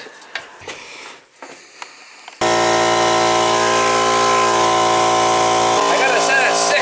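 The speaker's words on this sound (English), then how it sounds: "Hook up the compressor and we'll be good to go" An air compressor kicks on abruptly after some faint shuffling and rattling, then runs loud and steady with a constant droning hum, hooked up to blow out cottage plumbing lines for winterizing.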